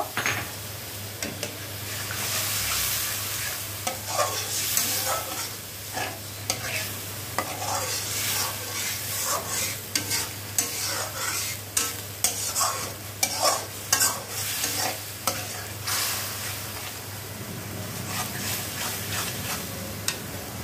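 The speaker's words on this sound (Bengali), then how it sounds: "আর একটু জল দিয়ে মশলাটা ভালো করে কষিয়ে নিব।" Spice paste with added water sizzles and fries in a pan while a spoon stirs and scrapes it in irregular bursts, a steady hiss underneath close and moderately loud.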